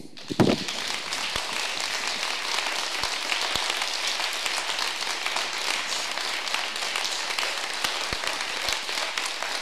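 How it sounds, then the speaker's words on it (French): A literary audience applauds author Lydie Salvayre, a dense, steady roar of clapping that opens with a sharp burst and carries on at full strength throughout. "Je vais vous demander de remercier Lydie Salver, mais alors avec un tonnerre d'applaudissements."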